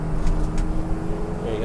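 A 1997 Ford F450 diesel truck with stiff suspension rumbles loudly as it accelerates over bumps, with a steady low engine drone throughout and a voice talking over it.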